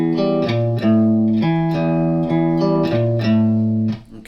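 Electric guitar plays the riff twice through in a steady rhythmic pattern of repeated low notes, close, loud and alone with no voices.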